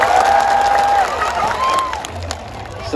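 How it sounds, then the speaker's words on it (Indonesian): Outdoor political rally crowd in Dadap, Juntinyuat, Indramayu, clapping and cheering steadily at a loud level, with a shrill feedback-like whistle above and scattered voices. "Yang sebelah sini tepuk tangannya mana?"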